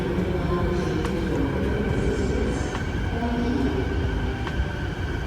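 A train runs through a railway station with a loud, constant rumble of wheels and carriages. Occasional metallic squeaks and clicks rise above the steady roar, and indistinct voices may be mixed in.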